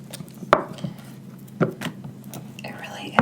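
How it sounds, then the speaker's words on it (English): Candle-making wax is cut into small pieces with a few sharp, close knife taps and soft slicing scrapes, set against quiet whispered talk. "So I'm just going to cut it into small pieces."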